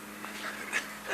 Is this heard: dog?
yes